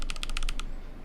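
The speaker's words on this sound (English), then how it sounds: "The alpha sound on KS9 Pro Yellow" Kailh KS9 Pro Yellow switches on a Nooir Noland N1 keyboard give about eight quick, crisp keystrokes in a fast run and then fall silent, close up and alone.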